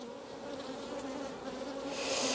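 Constant droning buzz of many honey bees close by, steady in pitch, swelling slightly louder toward the end.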